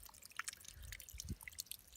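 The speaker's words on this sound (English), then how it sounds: "giving the blueberries a thorough watering with the rainwater that's saved in this water butt" Rainwater from a garden water butt poured over potted blueberries on an allotment, with scattered drips and light splashes at close range, fairly quiet and irregular, no talking.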